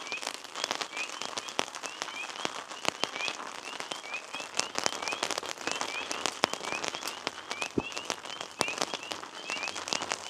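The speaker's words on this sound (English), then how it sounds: "It's picking up good." Heavy rain drums steadily on a hammock tarp on a mountain at night, a dense, continuous patter of close drops with sharper individual taps, while spring peeper frogs chirp faintly in the background.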